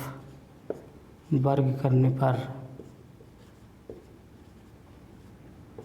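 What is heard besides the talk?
writing while solving maths on the board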